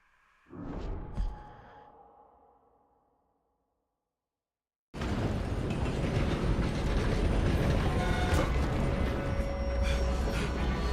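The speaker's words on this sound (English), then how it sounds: "Come on, we need to stop this train." Train running in Red Dead Redemption 2, a loud continuous rumble and clatter of wheels on rails that starts abruptly after a short burst and a silent gap, then holds steady and close.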